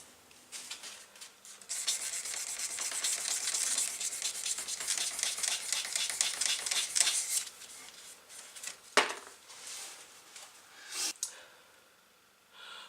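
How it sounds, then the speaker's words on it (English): Sandpaper rubs back and forth in quick, even strokes for several seconds on knife handle scales at 600 grit, close and fairly quiet, then slows to a few isolated scrapes. "I'll take these down to 600 grit and then give them a polish up"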